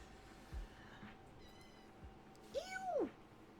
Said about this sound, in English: I love this little kitten, even if she's a fucking shithead